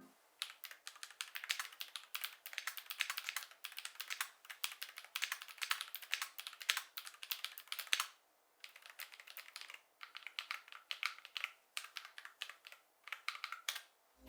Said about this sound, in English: My personal keyboard uses tactile Glorious Panda switches,